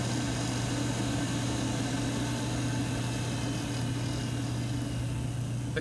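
A laboratory centrifuge spinning at about 3,000 RPM gives a steady, loud mechanical hum with a strong low drone, constant from start to finish with no voices.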